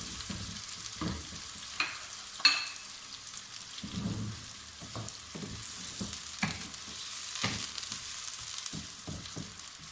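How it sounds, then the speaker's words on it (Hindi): Chopped onions fry lightly in hot oil in a pan for a chicken gravy masala, giving a steady soft sizzle with occasional stir clatters and a sharp metallic tap near the start, no voices. "प्याज को हम हल्का फ्राई कर लेंगे"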